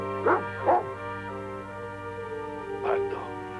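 A dog barks in two pairs of short, sharp barks in an indoor scene from a 1968 Walt Disney film, set over a steady low hum, with pauses between the bursts.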